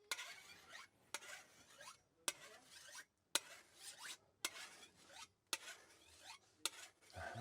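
A machete being sharpened with a file, heard as about seven long rasping strokes close by, each starting with a sharp scrape and separated by brief pauses.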